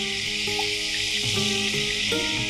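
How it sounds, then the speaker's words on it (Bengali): Chicken pieces lightly frying in white cooking oil for a traditional Bengali chicken kabiraji, a steady close hiss of sizzling with a few faint pops and clinks, no talking. "চিকেনগুলো হালকা ভেজে আমি বাটিতে তুলে নিলাম"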